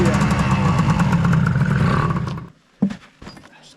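Old snowmobile engine, sitting in storage for ten years with a sticking carburetor, running in a loud, rough buzzing idle that abruptly cuts out, followed by a few knocks and a voice.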